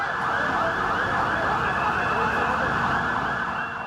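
A continuous, loud, wailing siren comes from emergency vehicles, ambulances and fire engines, responding to a hospital fire at a mall in Bhandup, Mumbai.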